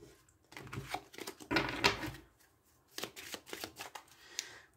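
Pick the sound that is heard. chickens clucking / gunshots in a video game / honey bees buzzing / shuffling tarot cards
shuffling tarot cards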